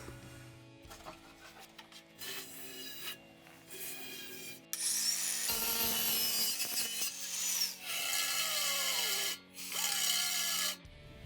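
Cutting part of a Honda Super Cub seat base by hand, with uneven rasping and sawing strokes in bursts separated by short pauses. The strokes are moderately loud and close.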